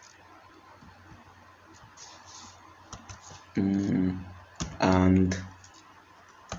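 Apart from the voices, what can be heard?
typing on a computer keyboard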